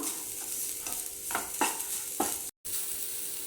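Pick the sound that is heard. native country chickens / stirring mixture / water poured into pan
stirring mixture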